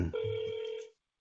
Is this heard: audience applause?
no